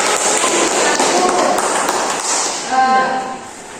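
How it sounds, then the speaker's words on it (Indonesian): Classroom applause during a fifth-grade civics lesson, a steady burst of many hands clapping together, loud and close, fading slightly near the end as voices begin. "Kita beri aplaus dulu."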